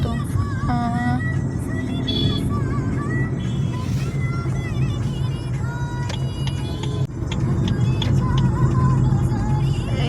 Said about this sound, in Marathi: हे ट्रॅफिक लागलंय आम्हाला.